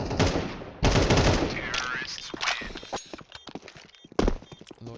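Heavy automatic gunfire in a Counter-Strike 2 tournament match, loud rapid bursts of shots with gaps, mixed with game effects and a commentator talking over the action.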